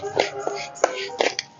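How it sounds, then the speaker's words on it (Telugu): Flax seeds roasting in a pan give off sparse, sharp crackles and pops, several distinct snaps spread irregularly over a steady low hiss. "ఇదిగోండి చిటపటలు ఆడుతున్నాయండి."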